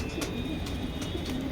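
Pigeons coo softly in a loft, low repeated throaty notes set against a steady background hum and occasional faint clicks, with no talking.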